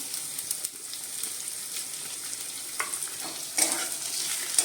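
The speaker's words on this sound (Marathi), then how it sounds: "हा चांगला भाजून घेऊया आपण कांदा आपला चांगला भाजून झालेला आहे" Finely chopped onion frying in a pan, a soft steady sizzle with faint crackles and a few stirring scrapes, fairly quiet and close, no voices.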